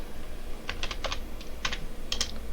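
Several quick clicks of computer keyboard keys in a few short clusters, ending in a firmer Enter press, close and distinct over a steady low background hum.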